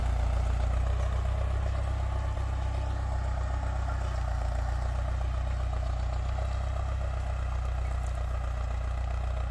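Tractor engine idling in a dusty field: a steady, low, droning rumble with faint mechanical clatter, unchanging and moderately distant throughout.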